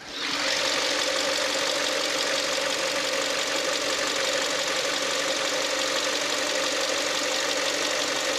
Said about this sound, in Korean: 이렇게 엔진 룸 열어봤고 엔진 소리 한번 들어보도록 하겠습니다